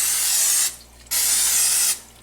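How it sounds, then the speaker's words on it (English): Two sharp bursts of cooking spray hiss onto a hot griddle, each lasting under a second with a short pause between, loud and close with no talking. "Hit it with some cooking spray just in case this stuff wants to stick."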